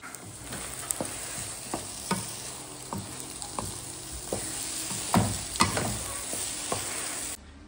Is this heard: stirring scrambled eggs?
yes